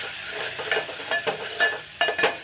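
Spoon scraping and stirring chili and roasted coriander-cumin powder through a pan while making ambat chuka dal, with a soft steady sizzle beneath four or five louder scraping strokes, close and with no voices.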